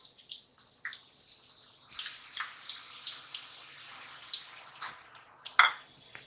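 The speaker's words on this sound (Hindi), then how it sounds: "अभी हम इसमें प्याज डाल रहे हैं" Chopped onions dropped into hot oil for a Maharashtrian-style siri ka salan, giving a steady crackling sizzle with scattered pops and spits, close and moderately loud, with no talking.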